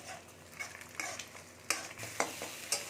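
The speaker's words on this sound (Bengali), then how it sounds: "এরকম করে আমি একটু ঘেঁটে নিচ্ছি ঘেঁটে নিলে ডিমটা দেখবে ছোটো ছোটো ছোটো ছোটো ভাগ হয়ে যাবে আর ডিমটা ভাজাও হয়ে যাবে" Egg stirs and fries in a pan, with a soft steady sizzle broken by intermittent scraping and tapping of a utensil, fairly quiet and close.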